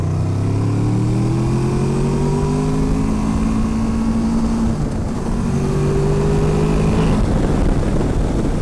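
Motorcycle engine pulling hard on a winding, curvy mountain road, a loud steady drone with rising pitch sweeps as it accelerates, dipping briefly mid-way then climbing again, heavy wind rush throughout.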